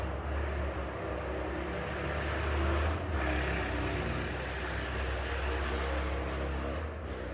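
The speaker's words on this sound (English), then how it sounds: "No one's car needs to be that loud." A loud car roars past outside, its deep engine rumble swelling to a peak and then easing away while the low drone continues in the background.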